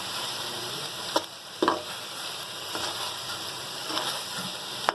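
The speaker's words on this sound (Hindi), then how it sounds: "अच्छी तरीके से हम भूनेंगे अपने मसालों को।" Spices being fried and stirred in a pan for spinach mince, producing a low steady sizzle broken by a few sharp spoon knocks and scrapes against the vessel, close and alone with no talking.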